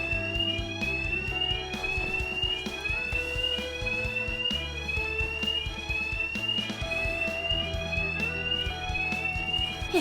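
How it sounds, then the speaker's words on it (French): A fire alarm in an indoor drama scene rings continuously for about ten seconds, a loud, steady cycle of repeating rising electronic tones layered over dense background sound. "L'alarme incendie."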